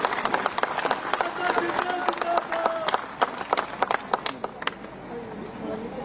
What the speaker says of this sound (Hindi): जरा हाथ उठाकर तालियां बजा दीजिए